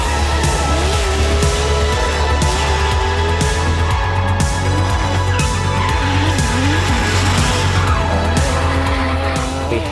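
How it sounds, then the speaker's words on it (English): A drift car slides along a mountain back road in Eureka Springs, Arkansas, at a drift event. Engine revs roar continuously and tires squeal in repeated long screeches, loud and close throughout. "So we're doing some backroad mountain drifting in Eureka Springs, Arkansas."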